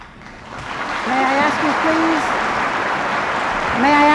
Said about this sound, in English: May I ask the audience, please, to refrain from applause?